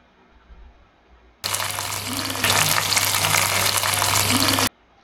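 A hot tempering of mustard seeds, red chilli and curry leaves in oil is poured into pumpkin curry, bursting into a sudden loud sizzle after quiet, swelling stronger midway, then cutting off abruptly.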